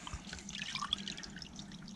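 Water trickles and drips into a container as salted bleak fish soak, a steady close wet splashing with small drip accents throughout.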